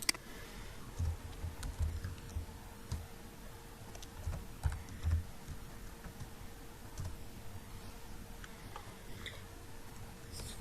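Keys tapping on a computer keyboard while text is entered into a Microsoft Office document, soft irregular clicks in short clusters over a steady low hum, fairly faint and close.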